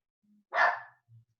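A single short dog bark rings out nearby, with faint low murmurs around it.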